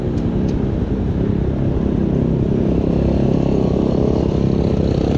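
A motorcycle rides through town streets, its engine a loud, steady close drone that stays even throughout with no talking.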